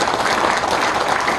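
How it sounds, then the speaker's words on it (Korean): Applause at an association's founding assembly in a small conference room at the National Assembly Members' Office Building: a dense, even round of clapping from a seated audience, loud and continuous throughout. "민족문제연구소에 박수 부탁드리겠습니다."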